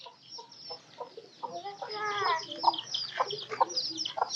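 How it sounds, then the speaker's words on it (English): A hen clucks among her five chicks, steady low clucks mixed with the chicks' high peeping, close and continuous with some background murmur, in the grounds of a Thai temple. "she's got 5 chicks"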